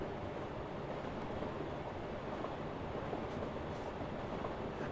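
A train in the Kingdom Hearts 2 Final Mix video game runs with a steady, low rumble that stays constant and fairly quiet throughout, with no talking.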